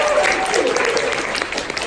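Seminar audience breaks into a short burst of applause, a dense wash of clapping close and loud with no talk.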